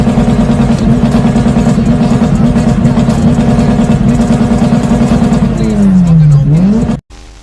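A pizza delivery car with its muffler deleted, a loud, raw, close engine drone sustained under talk, then a rising and falling rev sweep before it cuts off abruptly.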